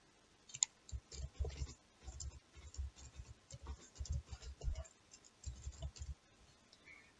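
Quiet mouse clicks working Tableau software, a string of soft, rapid clicks in irregular bursts with short pauses between, close and alone.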